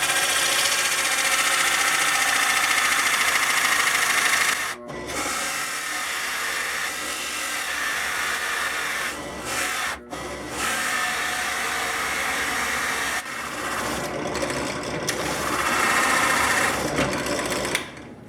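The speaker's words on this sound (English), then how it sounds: "I'm just going to go ahead and drill out the sound hole in this." A drill bores out the sound hole in a soprano ukulele top, a loud continuous whine that runs in several long bursts separated by brief stops.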